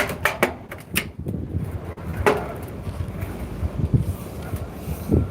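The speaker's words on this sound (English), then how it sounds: "this wind just picked up big time" Strong gusting wind buffets the microphone beside the River Itchen during lunchtime fishing, with low broadband roar, a few sharp knocks and rattles near the start, and steady rumbling gusts throughout, no speech.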